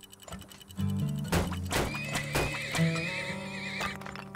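A horse whinnies loudly with a rising and falling neigh, over a steady clip-clop of hooves and a few dull thunks, in the video game Turmoil: Deeper Underground.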